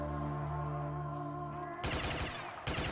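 Rapid automatic gunfire in Black Ops 3 Zombies, a dense stream of close, loud shots that kicks in partway through after a tonal game-music stretch, with a brief pause before the firing resumes.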